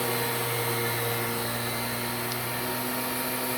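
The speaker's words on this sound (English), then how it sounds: "they actually seem to have a 2-speed power nozzle too" A Filter Queen Majestic 360 vacuum with its power nozzle on low speed runs as a steady, loud, continuous whirring drone with an even motor hum throughout.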